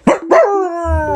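A man imitates a dog with his voice: two quick, loud barks, then a drawn-out howling tone, close to the microphone.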